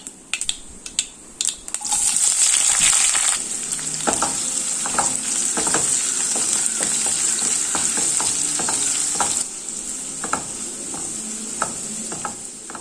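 Sliced onion and slit green chillies sizzle loudly in hot oil with mustard seeds, a steady frying hiss with occasional stirring scrapes and clinks of a spoon against the pan, no talking.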